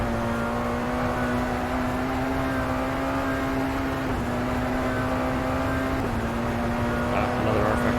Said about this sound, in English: you can hear right there a little bit of gear noise